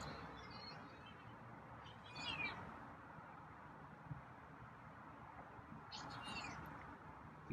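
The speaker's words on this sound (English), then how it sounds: "Your meows are quiet tonight." A cat, a feral being tamed, gives two soft, short meows a few seconds apart over a low background hum.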